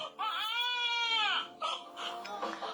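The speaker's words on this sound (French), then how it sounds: "j'aime l'entendre crier. Le petit bébé, n'est-ce pas?" A small baby cries close by, one long wavering wail followed by shorter, broken sobs and whimpers.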